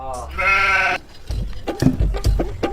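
A goat being fed gives one short, close bleat at the start, and voices then talk over the rest of the clip.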